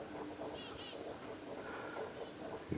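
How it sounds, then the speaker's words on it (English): Birds calling outside a snowy cabin in December, with a few brief, faint chirps and whistles above a steady wash of outdoor ambience and low wind noise. "You can hear the birds"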